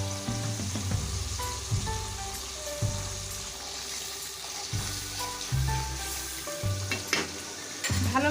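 Tomato puree sautés in a pan for chicken curry, giving a close, steady sizzle punctuated by rhythmic scraping and stirring strokes and low thuds of the pan.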